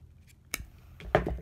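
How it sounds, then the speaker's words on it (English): Scissors snipping through leather cord for wood bead earrings: one crisp, close cut, followed a half second later by a second clipped snap and a faint metallic rattle, all quiet. "we're going to go ahead and snip that right there."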